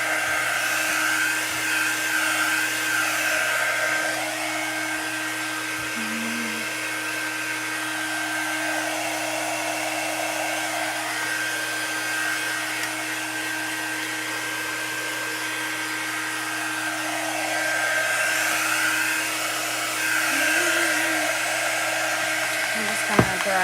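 Hair dryer drying chalk paste on a craft project, a steady loud whirring roar held close for the whole stretch, with slight shifts in tone as it moves.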